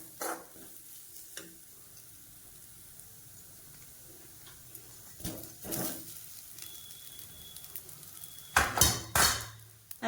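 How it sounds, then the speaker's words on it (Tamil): Grated coconut and steamed kozhukattai dumplings sautéed in a pan, with a soft steady sizzle broken by a few sharp clinks and scrapes of a spoon against the pan, louder stirring bursts near the middle and end. "இதில் வந்து தேங்காய் துருவல் போட்டு ஒரு ரெண்டு மூணு செகண்ட் வந்து வதக்கிட்டு இதில் வந்து வேக வச்சு வச்சுருக்க கொலக்கட்டையை வந்து சேர்த்துக்கிறேன்"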